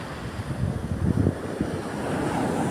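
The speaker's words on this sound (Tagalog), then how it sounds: "Ayun, laki ng alon, no?" Ocean surf with large waves rolls onto a clean sandy beach with a soft, steady wash, wind buffeting the microphone throughout.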